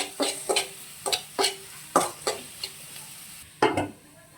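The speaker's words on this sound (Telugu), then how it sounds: "ముక్కలు వేగేంత వరకు ఇలా ఫ్రై చేసుకోవాలి." Bottle gourd pieces frying in a pan with red chilli powder, heard as a run of close, sharp stirring scrapes roughly every half second over a soft, steady sizzle, with no talking.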